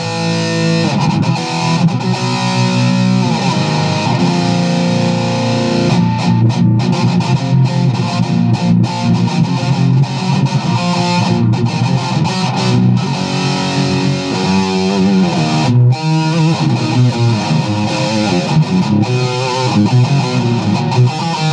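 Heavily distorted electric guitar through a Hardwire TL-2 metal distortion pedal with a scooped tone plays a chugging metal riff, loud and continuous, with dense saturated tone and brief pauses between palm-muted phrases.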